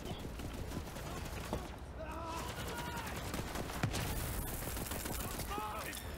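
Rapid gunfire rattles in the video game Borderlands 3, with bursts of shots layered over dense game noise while players talk over the action.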